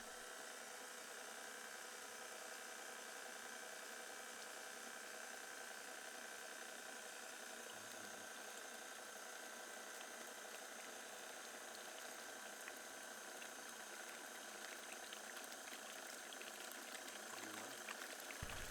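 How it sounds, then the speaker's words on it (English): An electric stand mixer whisks cream until it turns to butter, giving a quiet, steady motor hum with soft churning beneath, unbroken throughout. "Once the butter solids start to gather in the whisk like this, stop the mixer."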